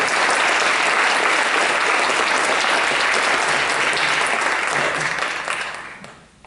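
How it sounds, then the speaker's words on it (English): Audience applause for board candidates at a candidate meeting, a dense steady roar of many hands clapping that holds for several seconds, then fades out near the end. "Please give the candidates a round of applause for questions."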